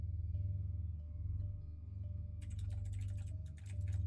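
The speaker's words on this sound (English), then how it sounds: "I don't know who's typing." Computer keyboard typing starts partway through as a quick cluster of light, irregular key clicks, fairly faint over a steady low rumble.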